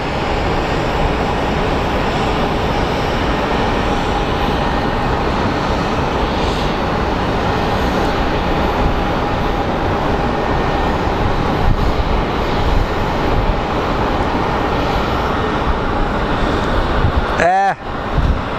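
Aircraft engines drone steadily on the ground at Phoenix Sky Harbor airport, a loud continuous roar with a brief whining sweep near the end.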